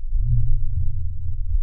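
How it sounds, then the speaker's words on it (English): A sub-bass test tone in the 20 to 60 hertz range, a steady deep low rumble held alone for under two seconds with no other sound. "The sub bass would sound like this."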